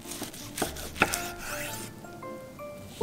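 A knife slicing a rolled vegan kimbap brushed with sesame oil and sprinkled with sesame seeds, with a few distinct cutting thuds on a board, close and fairly quiet, and no talking.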